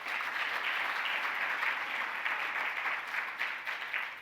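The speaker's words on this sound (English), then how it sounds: "but please give Bob Colomo a round of applause." An audience at a live conference event claps steadily for a speaker, a dense, even burst of applause that holds for several seconds and fades slightly at the close.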